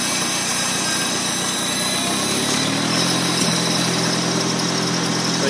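A 1951 Farmall Cub tractor engine revs up from idle, its steady loud drone rising in pitch and holding strong with a dense mechanical roar and no voices over it.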